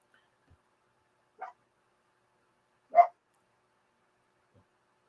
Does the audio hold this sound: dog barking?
yes